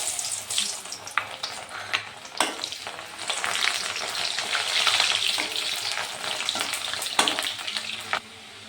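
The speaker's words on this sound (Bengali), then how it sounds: "ছোলার ডালগুলো আস্তে আস্তে করে ভেজে নেব, অল্প অল্প করে দিয়ে।" Chana dal frying in hot oil in small batches for homemade chanachur, a bright, dense sizzle that swells in the middle with occasional stirring scrapes, then cuts off near the end.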